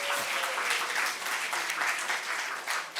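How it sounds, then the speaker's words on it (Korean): An audience at a winter youth church camp gives a short burst of dense applause, many hands clapping at once in a large hall for a few seconds. "박수 한번 쳐주세요."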